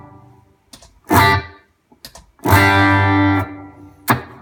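Instrument played through a reverb pedal set to almost no reverb: two loud, distorted chords ringing out separately, each with a dry, quick decay, plus a few short picked notes and a final stab.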